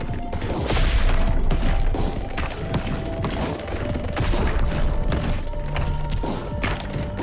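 A nuclear bomb blast in the Ball X Pit video game, heard as a loud, dense, continuous barrage of crashing impacts and rattling explosions, with no spoken voice over it.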